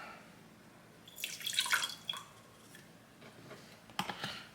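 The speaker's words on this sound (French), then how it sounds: "on se sert de l'eau qui en découle pour réchauffer un peu notre tasse" Hot water from an espresso machine drips and trickles into a coffee cup to warm it, a light, close patter with a brief splashy burst and a few scattered drops.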